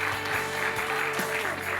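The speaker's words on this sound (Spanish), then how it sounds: "Fuerte aplauso por la ministra Karina." A church congregation claps for a minister in one steady, dense wash of applause, with a sustained musical tone and faint voices underneath.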